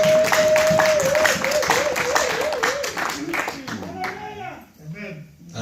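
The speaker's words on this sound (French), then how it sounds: "Acclamez." A congregation claps together in steady rhythm at a French-language church service for Easter, with a held musical tone and voices mixed in before the clapping fades.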